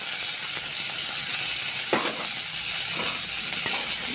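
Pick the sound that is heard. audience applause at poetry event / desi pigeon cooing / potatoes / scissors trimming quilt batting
potatoes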